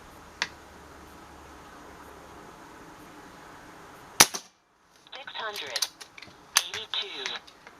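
A Kral Puncher N-07 air rifle fires two sharp shots several seconds apart. Mechanical clicking and ratcheting from the action are heard between and after the shots, close and alone.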